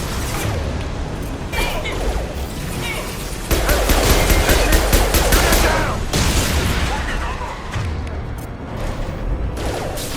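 Heavy weapon firing in Mass Effect 2 combat, loud bursts of blasts and mechanical clanks that swell into a dense roar midway, then ease off, with voices in the fight.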